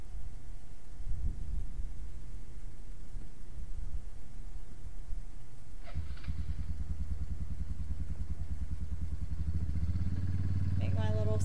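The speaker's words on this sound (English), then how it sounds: "go get on the four-wheeler" A four-wheeler ATV engine runs steadily nearby, its low rumbling drone rising and growing louder toward the end as it revs, with wind and outdoor background noise throughout.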